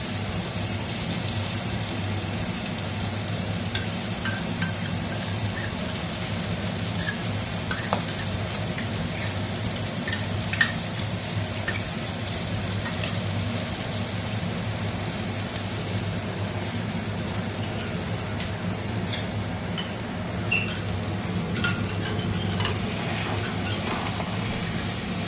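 Spice masala being stirred and mixed in a frying pan for a vegetarian paneer and pea curry, a steady loud sizzle like rain with scattered scraping clicks of the spoon, continuous and close, no talking.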